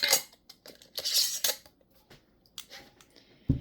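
Metal lid and band being fitted onto a glass canning jar of green beans, a run of sharp clinks and scraping clicks in irregular bursts, close and fairly quiet.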